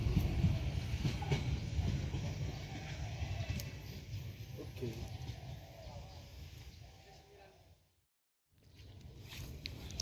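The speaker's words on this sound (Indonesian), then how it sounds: "Madiun Jaya melintas Lempuyangan arah Yogyakarta lanjut Jakarta" Madiun Jaya passenger train passing Lempuyangan station toward Yogyakarta, a loud steady rumble of rolling wagons that fades, drops out briefly, then returns.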